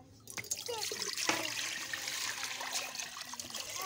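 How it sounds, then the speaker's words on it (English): Water pours steadily into a cooking pot during outdoor cooking of yoro yoro, a continuous close trickling splash that runs for several seconds with no talk. "I'm going to add water into this cooking pot."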